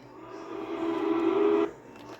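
Custom-made train horn for the Trainz railway simulator, shaped with a fade-in: a single sustained, steady chord-like blast that swells gradually, holds loud for about a second and then cuts off abruptly, with nobody talking over it.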